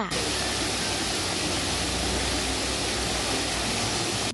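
A waterfall at a forested hillside cafe in Khao Yai, Thailand, roars as a steady, loud, broadband rush of falling water that fills the whole moment without a break, close and continuous.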